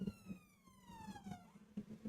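An ambulance siren passes at moderate distance, its wailing tone sliding steadily downward in pitch over about two seconds, with intermittent low thumps and room noise from a workshop underneath.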